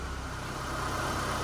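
A 2002 Mitsubishi Lancer engine idling, a quiet, steady low hum with an even, unbroken rhythm and no voices.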